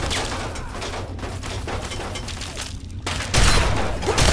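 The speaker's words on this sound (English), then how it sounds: "They've got like a mounted fucking turret." Mounted turret fire in Fallout 3 roars as a dense, loud, sustained burst of automatic gunshots, close and continuous, swelling louder near the end.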